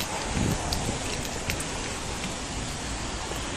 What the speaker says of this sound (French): C'est quoi cette pluie là?